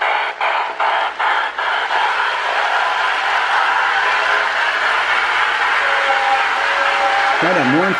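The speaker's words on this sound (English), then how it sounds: "Quite a mournful sounding electronic whistle." An electronic sound unit on a Lionel MPC-era Allegheny model steam locomotive gives a steady chuffing hiss. A few chuffs stand out at first, then a mournful wavering whistle rises near the end, played loudly close by.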